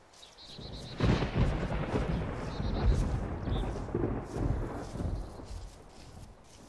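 Thunder in the ARMA 2 DayZ mod, a loud rolling rumble that swells in after a quiet start and grumbles on for several seconds with uneven crackling peaks, alone without speech.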